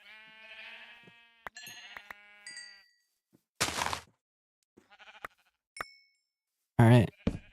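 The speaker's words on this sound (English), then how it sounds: "There's the sheep." Sheep bleat in a video game, a wavering bleat at the start followed by scattered clicks, knocks and bursts of other game sounds, with a voice talking at times.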